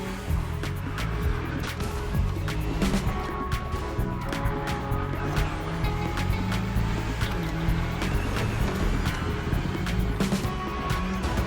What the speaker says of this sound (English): Careful, easy on the brake, and then throttle out.